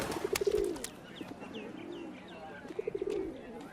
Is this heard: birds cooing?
yes